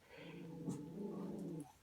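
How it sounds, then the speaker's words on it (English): A dog close by gives a short, low whimpering growl that swells and fades over a couple of seconds, with no talking over it. "just ignore that, guys. That's just my dog."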